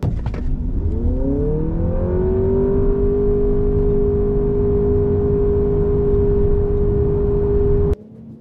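A 2024 Toyota Camry TRD launching in a drag race, its engine note rising steadily for about two seconds, then holding a strong sustained drone until it cuts off sharply near the end; close and loud.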